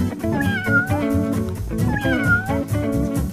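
Game cats from the Cat Worship level of Tasty Planet meow repeatedly and loudly over a continuous musical backing, several drawn-out calls in quick succession.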